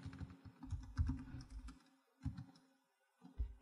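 Fingers type on a computer keyboard in quick close bursts of clicking keystrokes, broken by brief pauses, with no voices over it.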